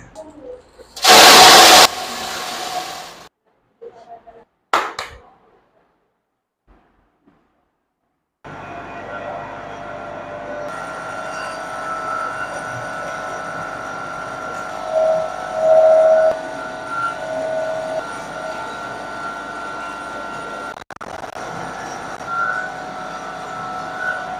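A small home-business flour mill rated at 30 to 40 kg per hour grinds chana dal into gram flour. A few loud bursts and knocks come first, then a brief silence, then a steady close droning whir with a humming tone that runs to the end.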